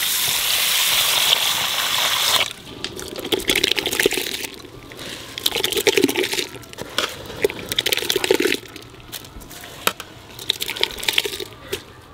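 Masoor lentils and rice are washed together by hand in a pot of water, giving off splashy swishes and gritty rattling bursts of grains that come in irregular waves over about twelve seconds.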